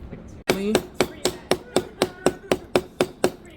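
Steady hammering on copper sheet to texture it, about a dozen evenly spaced, fairly light metallic strikes, close and clear, with a brief squeak before the first blow.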